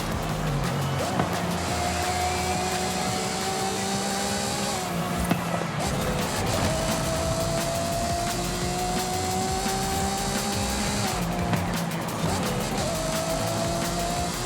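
Naturally aspirated stock Italian car engine in Forza Horizon 5, revving up through gears in repeated rising pulls with brief dips at shifts, loud and steady with no talk.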